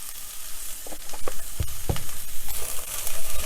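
Beans fry in hot oil in a pan, a crackling sizzle with soft scraping strokes as they are stirred, close and fairly loud with no talk.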